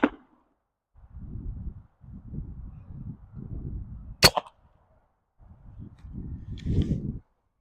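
A Byrna Mission 4 less-lethal launcher fires one sharp, loud crack outdoors toward a target about 80 feet away, set between stretches of low rumbling wind or handling noise.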